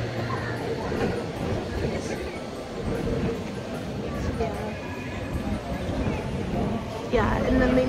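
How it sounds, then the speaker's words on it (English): A noisy tram rumbles past on a city street during the Christmas season, a steady broadband roar that swells near the end, with people talking over it. "We've probably just heard noisy tram."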